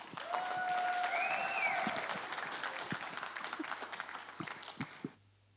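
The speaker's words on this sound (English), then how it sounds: "a round of applause for Kika." An audience at a Pasifika speech competition claps for a speaker in a full burst of applause, with a whistle-like tone early on. The clapping thins into scattered claps and ends.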